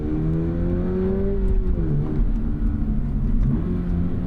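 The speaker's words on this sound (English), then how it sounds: "A little more aggressive of a jab, gets a good rev match, the heel toe." Engine of a 2024 Subaru BRZ tS blipping during a heel-toe downshift, a loud close rumble whose pitch rises sharply in a quick rev-matching jab, then settles and swells again.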